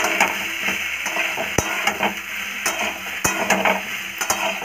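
Garlic and ginger paste frying in a pan hisses steadily while a metal spatula scrapes and taps against it in quick, repeated strokes, close and fairly loud, with no speech.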